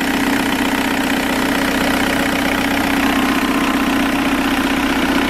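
A Toyota with a swapped-in TDI diesel engine idles steadily, a loud close rumbling clatter with an even low throb that runs continuously without speech.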